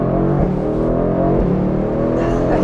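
Mercedes-AMG GT Roadster Stealth Edition engine revving hard and pulling through gears, a loud rising roar with brief dips at the shifts, heard from inside the car.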